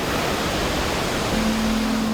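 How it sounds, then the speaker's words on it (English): A steady, dense roar of Pacific surf washing in continuously at Pacific Beach, California, with a low tonal hum joining partway through. "You can hear the waves crashing just feet away."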